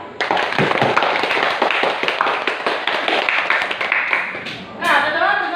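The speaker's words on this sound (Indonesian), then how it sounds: "beri aplaus untuk semuanya" A classroom group claps together after student presentations, a dense run of hand claps lasting about five seconds before a voice starts talking at the end.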